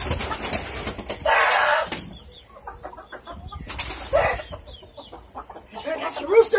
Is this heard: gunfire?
no